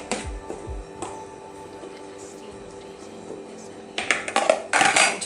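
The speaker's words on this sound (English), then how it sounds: "we just toss the cubes here in the oven tray." Food cubes tossed onto an oven tray make clattering, rattling hits against the metal pan, with two bursts near the end over steady kitchen background noise.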